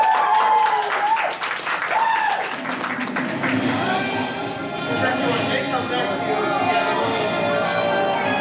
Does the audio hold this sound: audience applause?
yes